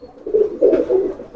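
A pair of Lakha pigeons coo nearby in three soft, low, rolling phrases in quick succession, clear and close with no voices.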